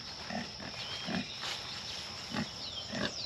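Pigs grunt in a handful of short, soft bursts spaced about a second apart, fairly close but quiet against a faint background hiss.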